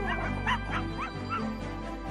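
A cartoon dog in a children's story gives a quick series of small yaps and yips, close and clear, with no one talking over them.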